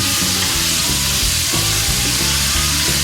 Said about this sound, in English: Put it in this real hot pan. Kind of give it a stir.